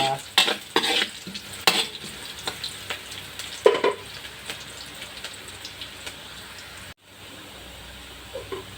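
Garlic and onion frying in a pan, a steady sizzle with several sharp scraping stirs near the start, then quieter frying that briefly drops out near the end.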